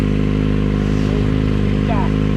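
A Kawasaki Ninja motorcycle engine runs close by with a steady, even hum and a brief rising rev, while voices speak nearby.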